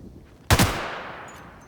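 Gunfire from newly acquired weapons in the video game The Outer Worlds: a single loud, close shot burst with a quick double punch, followed by a long fading tail and a faint high ring near the end.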